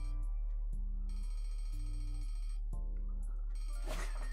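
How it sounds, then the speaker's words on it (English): An alarm clock rings in a video game, waking the character Henry at dawn. It sounds as loud, repeated bell-like bursts at a steady rhythm, with no talking. "The familiar noise of Henry's alarm clock announces the dawn of a new day"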